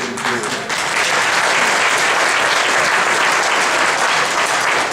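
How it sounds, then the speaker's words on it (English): An audience breaks into applause after a speaker's point at a live discussion event, loud dense clapping that swells quickly and holds steady, with brief talk just before it starts. "I assume that was applause for Stephen and not for my jumping in."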